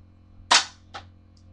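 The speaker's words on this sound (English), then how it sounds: "I don't know if you could hear it ricochet or not" A sharp snap of a Stinger P36 airsoft pistol shot, followed a moment later by a fainter tick of the BB ricocheting off a nearby box.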